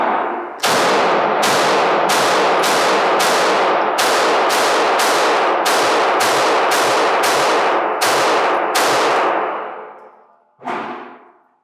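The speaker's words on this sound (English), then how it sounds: "This is gonna be my first shots with the Springfield Echelon" A Springfield Echelon pistol fires a string of about fourteen sharp, loud shots at an irregular quick pace, each ringing out and decaying before the next, then one last shot after a short pause, with no talking.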